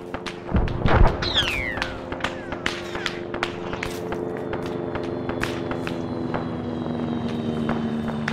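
Video game helicopter drones steadily through a battle scene, its rotor hum under dense gunfire-like clicks and thuds, with a heavier impact near the start.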